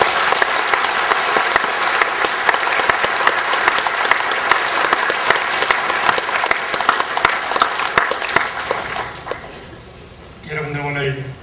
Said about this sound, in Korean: 우리 하나님께 감사드리는 마음으로 박수해 주시겠습니다.